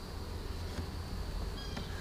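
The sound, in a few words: honeybees buzzing in an open beehive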